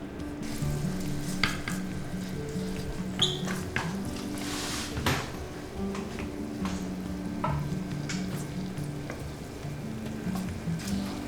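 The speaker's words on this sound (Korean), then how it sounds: "기름 둘러주시고요. 마늘을 노릇노릇하게 볶을 거예요." Garlic fries in oil in a pan for garlic fried rice, producing a continuous close sizzle with crackling pops and intermittent stirring clatter.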